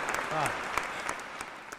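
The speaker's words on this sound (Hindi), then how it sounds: "इन श्रोताओं के लिए तालियां बजाएं, आप बजाएं" An audience at a Hindi comedy poetry gathering claps in a round of applause, moderately loud, with scattered sharp claps and a voice briefly sounding over it.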